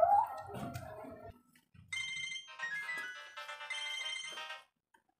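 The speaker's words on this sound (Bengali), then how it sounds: "ফোন আইছে ওস্তাদ বউ ফোন দিছে" A mobile phone rings with an incoming call, a bright repeating melodic ringtone after a moment of noisy scuffling at the start, the tune cutting off near the end.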